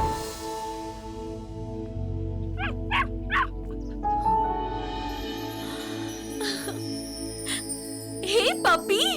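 A puppy whimpers and yips in short, high, rising cries, several spaced calls across the scene with a louder burst near the end, over soft tinkling music and a low background hum.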